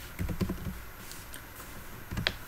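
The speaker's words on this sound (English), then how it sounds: "we can go to command on terminal and we can type" Keys on a computer keyboard are typed in two short bursts while entering an Ubuntu terminal command, close and crisp with a pause between, no talking.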